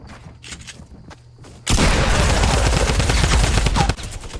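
A minigun in the video game Fortnite rips out a sustained, loud burst of rapid automatic fire lasting a couple of seconds, after quieter background game sounds.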